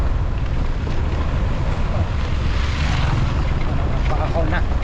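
A large truck passing on a dusty road, a heavy low engine rumble and rolling roar close by, steady and loud with wind buffeting, while people talk over it.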